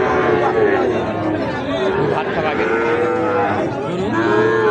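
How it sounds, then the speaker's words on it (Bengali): A Sahiwal bull calf moos at a busy cattle market. The low calls rise over steady crowd chatter and nearby voices. "এই ষাঁড় বাছুর।"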